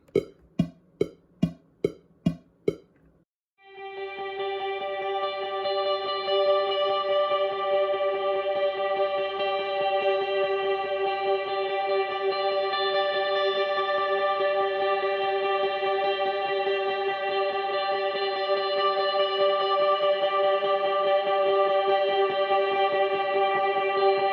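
A few quick plucked notes, then a wide, shimmering double-tracked guitar pad washed in chorus and reverb holds steadily for the rest.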